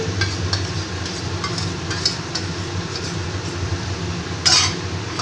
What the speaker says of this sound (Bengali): মশলাটাকে আমি ভালো করে এবার নেড়ে নেব